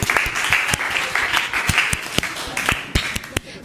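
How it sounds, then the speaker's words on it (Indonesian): A classroom audience claps after a group's Earth Day presentation, brisk clapping with distinct individual claps standing out, fairly close and lively, tapering slightly toward the end. "Tepuk tangan dong,"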